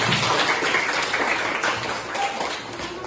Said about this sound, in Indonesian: Oke, berikan aplaus untuk kita semua